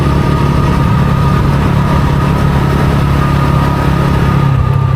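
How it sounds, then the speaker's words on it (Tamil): A TVS Ronin 225 motorcycle engine runs steadily and smoothly, a loud, constant low hum with no breaks and no talk over it. "நல்லா ஸ்மூத்தாக இன்ஜின் அப்படியே தூங்கிட்டு இருக்க மாதிரி இருக்குது"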